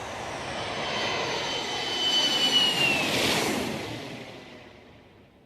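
Jet engines of an Ilyushin IL-76 military transport aircraft roar as the plane passes, a broad loud rush swelling to a peak mid-pass with a descending whine, then fading away.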